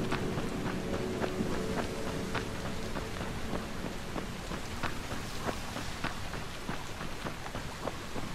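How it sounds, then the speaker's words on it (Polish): Steady rain patters down with dense, crackling drops on a surface, a continuous moderate wash of sound with no voices, in the video game Dying Light. "deszcz pada."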